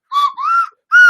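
A slide whistle gives three clear, close tones, the pitch gliding slightly up and down, with short gaps between.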